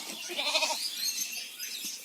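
Cameroon sheep bleating on a farm, a few soft wavering calls early on, faint and somewhat distant against quiet outdoor background.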